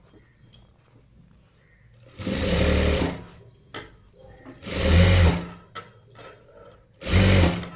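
A sewing machine runs in three separate bursts, each lasting about a second, while stitching the lining of a work blouse. It is loud and close, with quiet handling noise between the runs.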